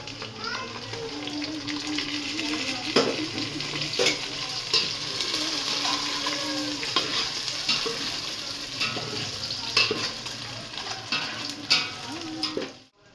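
Eggs fry for egg pulao in a pan with bay leaves, a steady sizzle with repeated stirring and scraping throughout, while faint children's voices and background chatter drift in from nearby.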